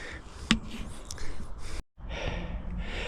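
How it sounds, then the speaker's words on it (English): Deep, heavy breathing from a hiker climbing a steep hill on the way up Warton Crag, close and loud panting gasps with a sharp intake, outdoors under steady wind noise. "I think you can tell by the deep breathing"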